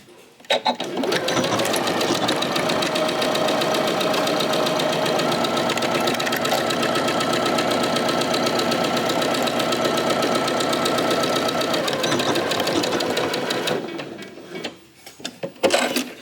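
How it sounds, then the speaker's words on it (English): A sewing machine runs steadily, stitching across the top edge of a fabric pouch in one long, loud, even burst of rapid needle strokes, then stops with a few small clicks. "We're going to stitch the top, and then we'll come back."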